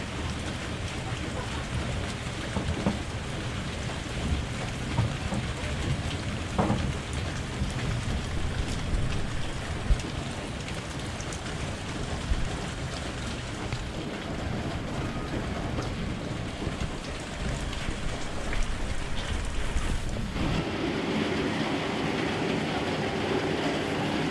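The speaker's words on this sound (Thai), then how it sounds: "ค่ำเสียงฝนตก" Heavy rain falling steadily at a rural home, a dense, continuous roar with scattered drop hits throughout, loud and unbroken, with a slight change in texture near the end.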